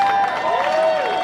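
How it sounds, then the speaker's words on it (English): Crowd applause with some cheering at a VIP press event for the Wizarding World of Harry Potter at Universal Studios Hollywood, steady and dense under a loud sung or spoken voice that carries over the top. "How about an added round of applause for Tim Runco and his amazingly talented entertainment team"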